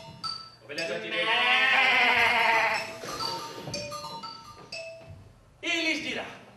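Several people imitate sheep, with long, loud, wavering bleats from multiple voices that overlap, then pause, then a final bleat near the end, in a lively stage setting.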